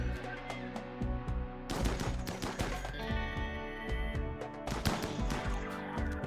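Assault rifles firing during a RimWorld battle, with repeated bursts and clusters of sharp cracks that come in uneven rhythm, fairly close and loud, against faint background game noise.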